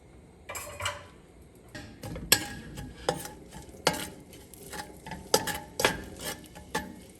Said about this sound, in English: And keep stirring until they brown.